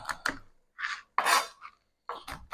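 A knife chops pistachios on a board in quick, crisp clusters of cuts with short pauses between, close and clear with no voices.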